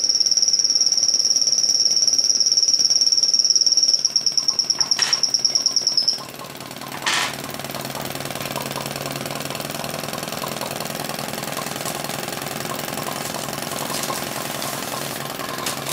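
A Twin Nick flame-eater vacuum engine runs with a fast, steady mechanical chugging. A high whistling tone fades out partway through, leaving the close, even beat alone.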